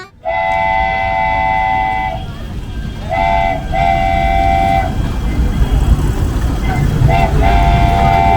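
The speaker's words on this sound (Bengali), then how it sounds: "দেখলেন এটা হচ্ছে টয় ট্রেন।" A toy train runs through a park near Kolkata that has a London Bridge replica, sounding loud and close with sustained horn toots, a long one and then shorter blasts, over steady rumbling wheels and crowd noise.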